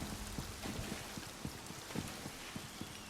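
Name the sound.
rain falling inside a tower, from a video game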